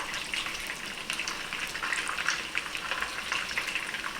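Meatballs fry in a pan, a soft, crackly sizzle with scattered pops and spits, fairly quiet and steady with no voices.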